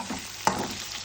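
Onion and chili frying in oil in a pan for upma, a close steady sizzle with stirring scrapes and one sharp utensil tap against the pan.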